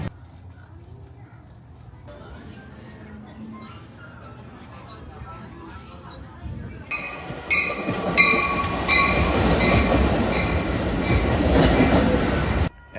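A passing Amtrak passenger train at a station, its broadband rumble and rail noise swelling loudly midway and holding to the end, with people talking over the earlier, quieter part.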